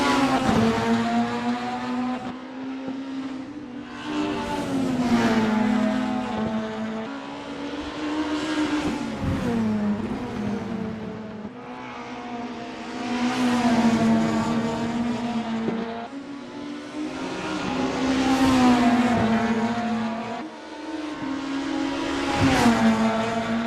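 A 1990s BTCC Super Tourer touring car circles on a tire-warming out lap in VRC Super Tourer at Autodromo Buenos Aires, its engine rising and falling in repeated swells of revving and gear changes, steady and moderately loud.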